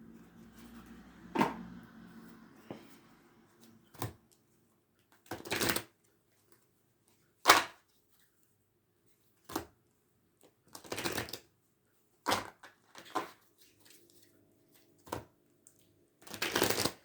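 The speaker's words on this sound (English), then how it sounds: "They're telling me to bring out certain cards, so I'm going into my box to bring them out." Playing cards pulled from a storage box and handled during a Pokémon card session, heard as a series of short, separate shuffling and flicking bursts, close and fairly crisp, with quiet gaps between them.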